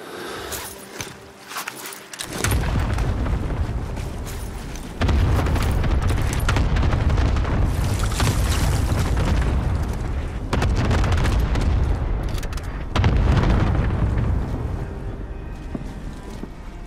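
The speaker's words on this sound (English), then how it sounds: "Cluster strike incoming. Take cover." Cluster strike explosions in a video game: heavy, sustained roaring blasts arrive in long waves after a quieter opening, loud and rumbling with sharp crackling bursts layered over them.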